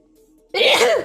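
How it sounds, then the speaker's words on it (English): A single loud sneeze bursts out after a brief quiet hum, sharp and close, then trails off. "I am going to sneeze in a minute."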